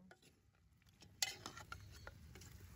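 Meat boiling in a pressure cooker with cinnamon stick, clove and Pomeroon cassareep, stirred with a spoon that gives several soft scrapes and clinks against the pot after a quiet start.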